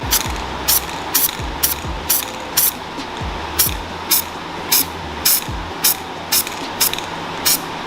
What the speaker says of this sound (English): It comes in a little rattle can, and basically you just go over little spots like this, just to spray over.